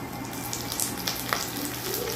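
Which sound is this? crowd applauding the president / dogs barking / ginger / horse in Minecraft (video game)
ginger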